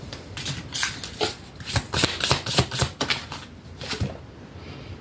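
Playing cards shuffled and drawn up close in a quiet room, a quick run of crisp riffling flutters and snaps followed by softer slides as cards are pulled from the deck.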